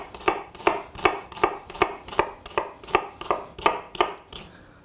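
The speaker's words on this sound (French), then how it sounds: "on va prendre un oignon rouge. On va essayer de le couper le plus finement possible" A knife finely chops a red onion on a board with about eleven crisp, evenly spaced strikes. The steady rhythm is close and clear, with no talking.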